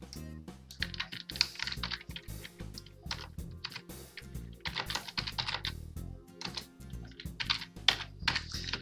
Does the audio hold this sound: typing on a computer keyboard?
yes